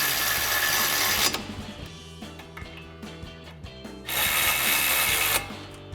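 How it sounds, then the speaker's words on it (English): A ratchet with a 15 mm socket tightens brake bolts on a 1999-2002 Mustang brake install, giving close bursts of fast clicking with pauses and sharper single clicks between them, no talking. "we'll grab our 15 mil socket on our ratchet"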